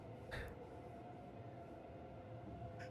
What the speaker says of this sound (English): I can hear the train in high definition